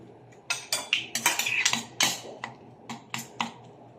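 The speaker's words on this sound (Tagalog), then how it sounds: "Halu-haluin natin." A utensil scrapes and clinks against a pan while stirring garlic and onion with ground meat in a home kitchen, making a series of irregular close metallic taps and scrapes.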